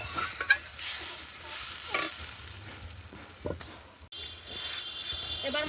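Water goes into a pan of fried red spice paste for boal fish curry, and a soft sizzle and stirring follow. The sounds are faint and irregular, with a few brief louder bursts.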